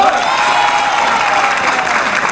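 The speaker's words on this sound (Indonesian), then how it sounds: "Tepuk tangan untuk semuanya" A television studio audience applauds on an Indonesian talk show, a dense and steady roar of clapping that stays loud and even throughout, with faint voices mixed in.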